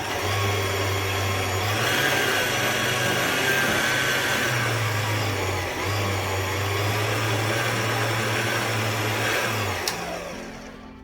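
An electric mixer works flour, salt and sugar together for cheese and red onion bread dough, whirring loudly and steadily with slight shifts in motor pitch before winding down near the end.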